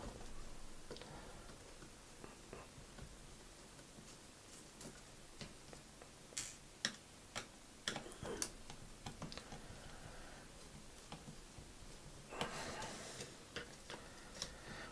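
A small screw being carefully backed out of a Tanix TX3 Mini Android TV box during a teardown, heard as faint, quiet ticks and light clicks spread irregularly over a soft background, with no talking.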